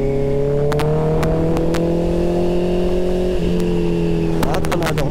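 A new motorbike's engine in Thailand runs hard and steady, loud and close, the tone climbing slowly before dipping at a shift and rising again, with faint ticking clicks over it.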